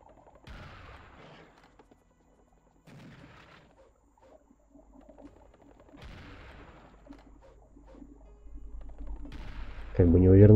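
A plasma shotgun is fired in the video game Serious Sam, with four loud, separate blasts spaced a few seconds apart and faint background murmuring between them.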